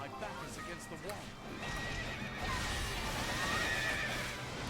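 Horses whinny and neigh amid battle in the action game Fire Emblem Warriors, with a dense, noisy backdrop of clashing effects and crowd-like din building louder toward the end.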